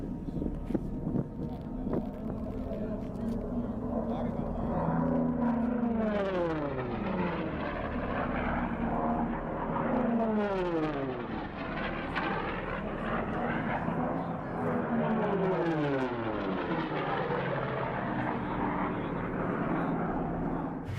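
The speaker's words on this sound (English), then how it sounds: "Vintage World War II planes screaming just feet above the desert floor, cheered on by thousands." Vintage World War II propeller planes race low over the desert at the Reno air races, several passes rising and falling in pitch as they roar by, loud over constant wind and crowd noise.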